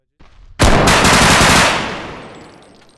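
A loud burst of automatic gunfire in the video game BodyCam, a rapid stream of shots that cuts in sharply and rings out into a fading tail, close and dominant.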